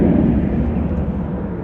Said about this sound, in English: Lovely sound there from the Ryanair Boeing 737.